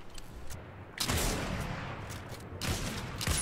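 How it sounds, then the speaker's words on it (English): Rapid bursts of gunfire in the video game Fortnite, dense crackling volleys that swell louder around the one-second mark and again near the end, with no pause between shots. "We're getting shot at."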